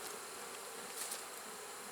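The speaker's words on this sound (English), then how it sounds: "Look at the bees down here." Bees buzz in a soft, steady hum during a beehive inspection, heard faintly and close with no talking over it.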